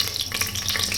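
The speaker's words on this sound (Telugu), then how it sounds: "గీ 2 tablespoons ఆఫ్ గీ వేసుకొని అది కరిగిన తర్వాత మసాలా దినుసులు యాడ్ చేసుకొని అది మంచిగా ఫ్రై చేసుకోవాలి" Whole spices crackle and fry in melted ghee in a pan, a steady close sizzle with faint stirring and no talking.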